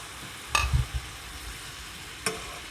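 Tomatoes and sugar dropping into frying onions, followed by a couple of brief clattering stirs over a soft, steady sizzle, with no speech.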